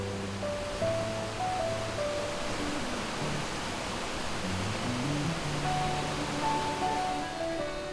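Yongsu waterfall pours beside a pavilion in a mountain forest near Dogapsa temple in Yeongam, making a constant, even rush of falling water with soft melodic music playing over it and no voices.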